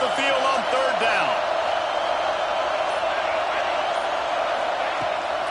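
Home crowd noise in the College Football 26 video game, a loud steady roar of cheering fans rising during a third-down defensive stand, with some whoops and a game commentator's voice near the start.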